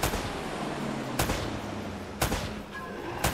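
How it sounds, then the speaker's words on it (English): Gunshots ring out during an Uncharted shootout, with three sharp, loud reports spaced about a second apart over a dense, steady bed of noise. "Less talking, more shooting."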